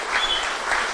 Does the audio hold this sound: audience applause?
yes